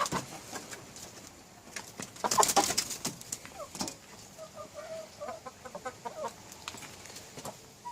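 A rooster and hens cluck and call nearby outdoors, with a brief louder crow-like burst amid soft poultry chatter.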